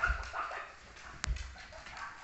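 A Cavoodle puppy lets out soft, faint whimpers and a brief high yelp, quiet and close, against a light background hiss with no talking.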